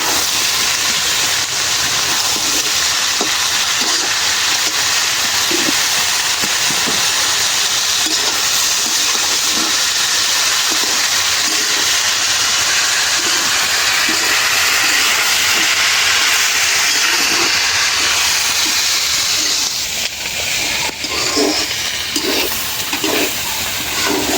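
Sliced bitter gourd frying in a pan after salt is added gives a loud, steady sizzling hiss that lasts the whole time, with faint soft clicks near the end.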